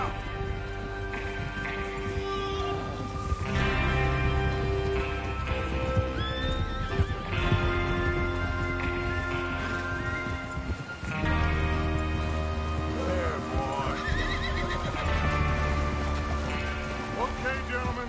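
Several horses whinny and snort in a video game while hooves clop steadily, with a rumbling ambience and people talking over it.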